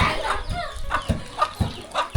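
Chickens clucking in a Lao village at dusk, with repeated short clucks at a fairly close range, spaced about every half second, over a low rumble of background activity.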